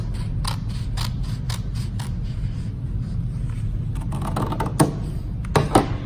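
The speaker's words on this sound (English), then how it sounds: "I'm just going to cut a strip like this" Scissors snip through a strip of mosaic material in a string of crisp, close cuts over a low background rumble, with a few sharper clicks near the end.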